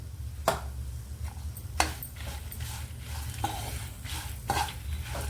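Bitter gourd spice mix roasting in a pan with salt and turmeric, stirred by a utensil in scattered scraping strokes and light clinks over a low steady hum, moderately quiet and close, with no talking.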